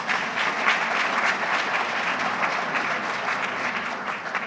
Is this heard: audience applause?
yes